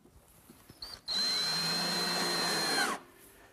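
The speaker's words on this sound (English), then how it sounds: "So we'll secure it with a few screws." A power drill drives screws into the back of a wooden shop clock: a short whine, then a steady buzzing run of about two seconds that stops abruptly, with small handling clicks before it.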